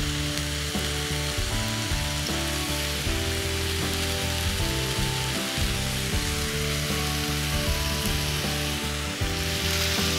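A stir-fry sauce of soy sauce with sesame oil, onion, garlic and ginger sizzles hard in a pan for turkey lettuce wraps, a dense continuous hiss close up, with a steady low hum underneath and no voices.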